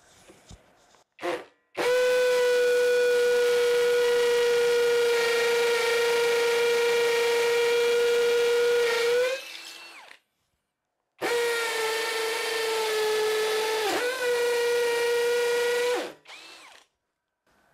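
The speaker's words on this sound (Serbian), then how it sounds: "koristim multimaterijal burgiju 6 mm, stavio sam u drugu brzinu čekić, da vidimo kako radi u cigli" Parkside PSBSAP 20-Li cordless hammer drill in second-speed hammer mode, boring through a brick with a 6 mm multi-material bit: two long, loud, steady whining runs of about seven and five seconds, separated by a brief silence, with short blips at start and end.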